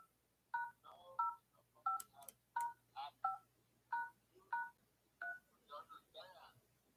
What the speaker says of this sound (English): Someone's dialing your phone.